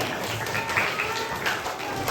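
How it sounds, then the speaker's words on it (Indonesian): A group at an elementary school session claps in a quick burst of applause, a busy patter of hands with a few voices mixed in. "Tepuk tangan dulu lagi."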